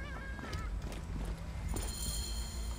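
Horses in the Assassin's Creed Origins video game clop and snort amid game ambience, with brief bird-like honks and tonal calls layered over a steady background bed.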